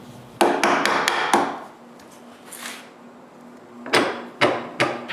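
Wood being cut away from a wooden tripod part by hand, a series of sharp knocks like mallet blows on a chisel in two bursts, close and loud in a quiet workshop.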